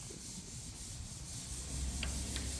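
Putty on an interior wall being sanded in a house under construction, a continuous gritty rubbing scrape heard from nearby at moderate volume, with a few faint sharp knocks and no speech.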